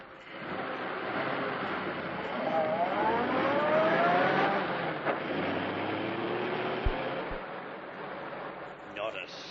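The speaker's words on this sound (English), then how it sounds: "jumping in when the car began to gather speed" Car engine in a 1952 old-time radio crime drama, a broad steady rumble building gradually as the car gathers speed, with a rising tone sweeping upward midway and a couple of brief knocks near the end.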